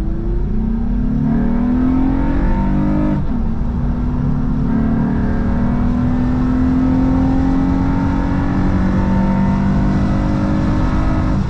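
An all-wheel-drive Acura MDX accelerates hard from inside the cabin, its engine droning loudly with rising pitch, a brief dip at a gear change, then climbing steadily again with constant road and wind roar.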